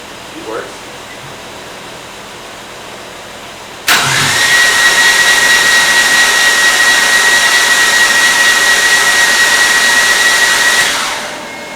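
A rebuilt Mazda RX8 rotary engine cranks over without firing, a loud, steady, even whir with a high whine that runs about seven seconds and then winds down, after a brief faint sound before it begins.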